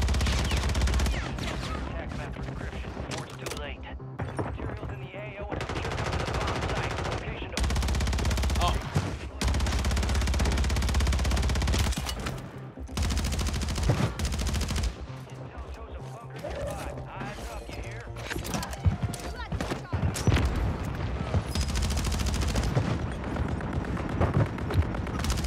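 Gunfire in a shooting video game, with near-constant automatic bursts and heavy shots packed across the whole stretch, loud and dense, and players talking over it at times.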